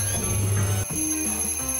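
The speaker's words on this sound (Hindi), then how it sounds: "नहीं, मुझे नहीं उठना। चुप रहो अलार्म।" An alarm clock rings steadily and fairly loudly for most of the moment, with a brief break partway before the tone resumes alone, no talk over it.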